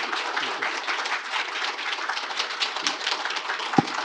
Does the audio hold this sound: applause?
yes